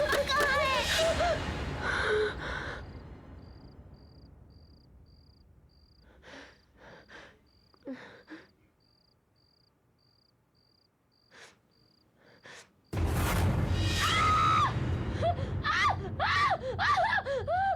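A woman screams in fright in a horror show, with loud frantic vocal bursts at the start and again near the end, separated by a quiet stretch of crickets, gasps and faint sounds.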